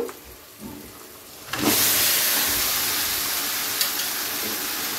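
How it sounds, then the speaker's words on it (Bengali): Chicken dropped into hot, oil-releasing masala in a pan, bursting into a loud, steady sizzle after a quiet start, with a few small pops. "চিকেনটা দেওয়ার পরে খুব ভালো করে মশলার সাথে মিশিয়ে নেব"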